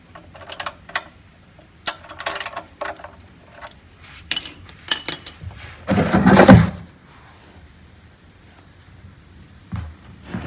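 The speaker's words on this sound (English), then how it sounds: "let's go ahead and loosen this bolt" A wrench works loose the oil drain bolt under a 1996-2000 Honda Civic in a garage, giving scattered close metallic clicks and ratcheting knocks, with a denser grinding burst midway.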